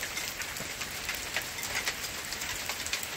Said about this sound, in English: Oh my God, look at this hail.